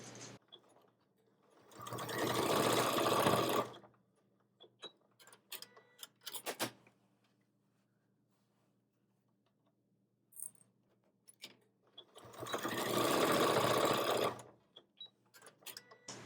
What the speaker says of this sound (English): I'm going to go take this to my machine and baste them in place with a 1/4 inch seam allowance.